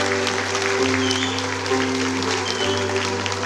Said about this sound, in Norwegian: I kveld er litt applaus til postkoret!